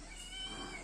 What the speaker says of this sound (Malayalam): പൂച്ച നോക്ക്. മിയാവ്